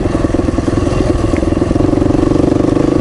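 A dirt bike ridden on a muddy forest trail, its engine pulsing steadily and loud close up with a rhythmic throbbing drone throughout, no voices.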